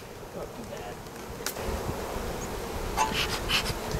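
Honey bees buzzing around an opened hive, a close, steady insect hum with a few louder buzzes passing near, light handling noises and faint breathing underneath.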